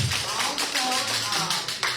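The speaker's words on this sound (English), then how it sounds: "so let's give her a round of applause." Audience applause at a city commission meeting in Mulberry, Florida: a dense patter of clapping that holds steady for two seconds, with a voice heard faintly underneath.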